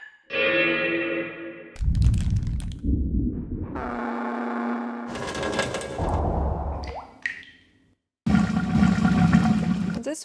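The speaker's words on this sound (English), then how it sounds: "This one just sounds like someone's toilet, but it's okay." Atmospheric sound effects from the SFX1 library play in separate bursts: swirling, echoing gurgles resembling a flushing toilet, with distorted sweeps and sudden cuts to silence between them.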